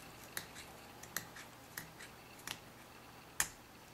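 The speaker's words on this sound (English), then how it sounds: "just trim that off with my scissors" Scissors trimming resin overflow off the edge of a fabric piece, a handful of small, crisp snips spaced irregularly, close and faint in a quiet room.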